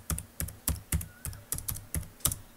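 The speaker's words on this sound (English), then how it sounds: "Let us suppose I am typing my phone number." Keystrokes on a computer keyboard entering a phone number into an Excel spreadsheet, a steady run of about a dozen close, crisp clicks in a loose rhythm with no talking.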